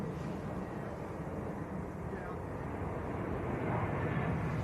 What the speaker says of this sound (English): Egypt Air just touching down